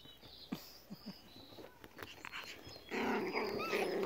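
Five-week-old puppies whimper and yip softly in short bursts, then break into a busier stretch of growly squeals and little barks.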